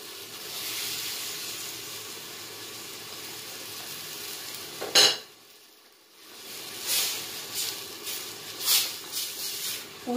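Tomato goes into a hot pan of Indian chicken masala: a steady frying hiss, a sharp hissing burst as it lands, a brief near-silence, then the sizzle returns in uneven, bubbling surges.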